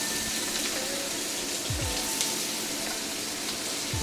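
Tofu pieces searing in a hot wok, a continuous sizzle with a few quick scraping sweeps as pieces are added one at a time, no voices.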